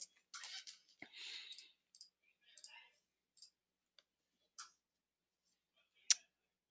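Keys tapped on a computer keyboard while entering a custom field name, heard as a few quiet scattered clicks and short bursts of typing, faint and close, with long silent gaps between them.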